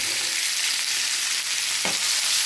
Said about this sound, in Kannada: ಫ್ರೈ ಆಗಬೇಕು, ಚೆನ್ನಾಗಿ ಫ್ರೈ ಆಗಲಿ.